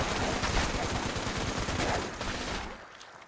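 A Gatling laser fires in Fallout 76 as a dense, continuous rattling burst that holds steady for a few seconds, then cuts off and leaves a quiet tail.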